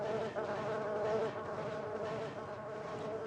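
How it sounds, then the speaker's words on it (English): Continuous whining buzz of robotic mosquitoes swarming in the shooter game Daikatana, close and loud, wavering in pitch for a few seconds with no voices. "have to kill a bunch of robotic mosquitoes"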